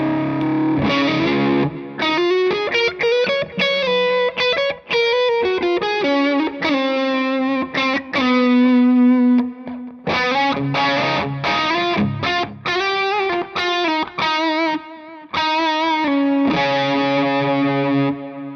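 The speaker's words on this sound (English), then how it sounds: "you've got the overdrive hitting the front of the amplifier. Exactly. And the reverb and delay in the loop" An electric guitar played through an overdrive pedal into the amp's front end, with reverb and delay in the effects loop, rings out in distorted chords and sustained melodic notes, with short gaps between phrases and a lingering wash of echo.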